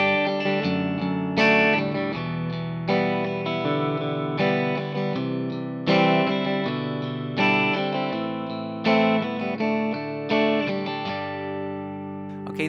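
Guitar strums the four-bar B-section chord progression of a song through chorus and effects, steady strummed chords changing every couple of seconds, clear and alone.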